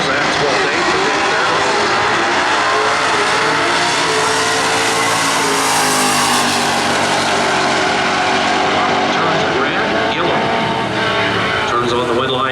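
A 1970 Dodge Challenger with a 440 engine and automatic transmission at a drag strip points race, a loud sustained engine roar that rises and fades as the car makes its pass, with a commentator talking over it.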